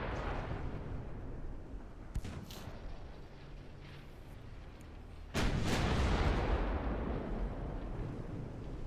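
Heavy guns firing in a naval warfare video game, a coastal defense battleship's 9-inch main battery; a sharp boom near two seconds, then a louder blast past five seconds that leaves a sustained rumble.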